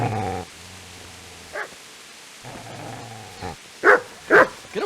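In a medieval video game scene, a dog barks and growls in short bursts, close and loud, with quieter stretches of background ambience between.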